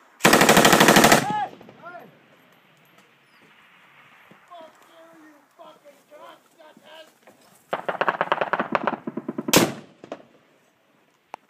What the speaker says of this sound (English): Definitely shooting right over us.